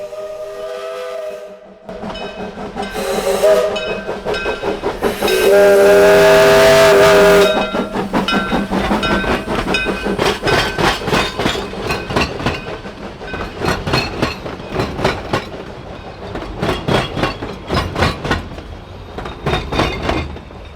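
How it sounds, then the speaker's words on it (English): A steam train's whistle blows loudly, then the locomotive chuffs past with rhythmic exhaust beats and clattering wheels, close and powerful, fading slightly toward the end. "the train is on its outbound leg"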